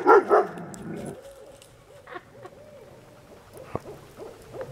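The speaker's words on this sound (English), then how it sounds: "there's been an owl going off" At a winter lean-to camp in snowy woods, an owl hoots and a dog barks near the start, then fainter calls and occasional yips continue over quiet background.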